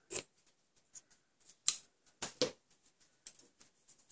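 Scissors snip ribbon at an angle for a handmade fold card, a quiet series of short crisp cuts and rustles, close by, with two or three louder snips among fainter ones.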